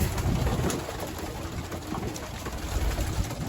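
Young racing pigeons coo in a loft, several soft overlapping calls over a steady background hiss and faint rustling, with no talk.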